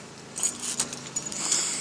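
A bunch of keys jangles close up in a few quick metallic shakes over about two seconds, with no one talking.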